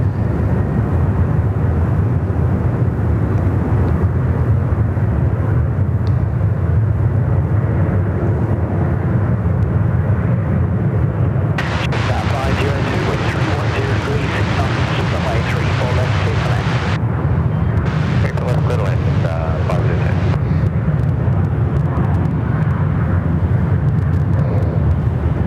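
An airliner bound for Darwin on its takeoff roll at Sydney Airport gives a continuous loud engine roar that swells with a bright rushing hiss midway, with voices talking over it.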